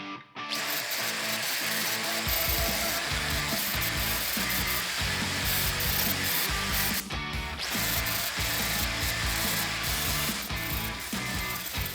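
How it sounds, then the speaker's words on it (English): Welds being ground off a car body under restoration: a loud, continuous grinding roar that starts after a short quiet moment and briefly dips midway, with no voices. "let's grind away the welds and see how it's looking"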